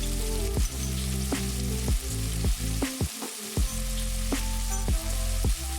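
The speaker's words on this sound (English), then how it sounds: "And lightly fry for 2 minutes." Prawns fry in a hot pan, a close, loud sizzle punctuated by repeated sharp scrapes and tosses of a utensil at a roughly even pace, with one brief dip in the middle.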